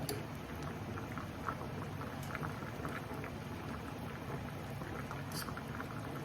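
Bananas boiling in a pot before dawn give a steady, dense bubbling and patter at moderate level, continuous throughout with no voices.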